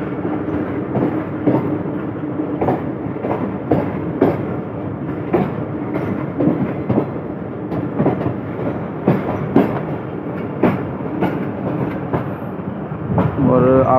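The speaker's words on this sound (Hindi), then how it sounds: "हमारी ट्रेन ने जो है मूव करना शुरू कर दिया है कोल्ड लाइन की तरफ।" A passenger train pulls away from Lodhran Junction, its wheels clicking in a steady rhythm over rail joints with knocks and rattles, heard from inside a carriage, with a faint squeal near the end.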